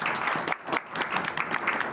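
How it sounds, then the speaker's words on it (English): Steady applause fills a city council meeting in Saline, with dense, even clapping from the audience throughout the brief moment and no speech over it. "let's give them a warm round of applause"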